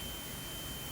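A multimeter continuity tester beeps while probing the stator coil of a Honda Supra X 125, giving one steady tone that holds through the whole moment at moderate level.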